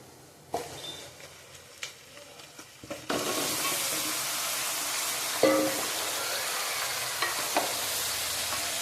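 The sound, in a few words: marinated meat pieces added to fried onions, sizzling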